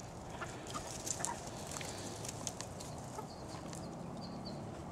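Backyard homestead flock of chickens clucking softly, scattered short calls over a steady outdoor hiss, fairly distant and faint with no talking.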